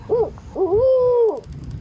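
A person imitates an owl hoot with a voice, giving a short call and then a longer drawn-out hoot, close and clear, with quiet background noise between.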